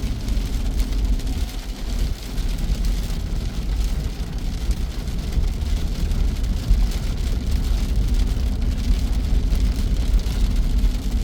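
Heavy rain pours down on Al Wasl Road in Jumeirah, Dubai, in a dense, steady roar with no letup, a low rumble of traffic or an idling car blended underneath.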